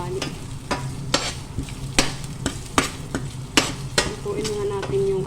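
Ginger, garlic and other aromatics sizzle in a wok as a utensil stirs them, with steady frying hiss broken by sharp scrapes and clinks against the pan at irregular intervals, close and clear.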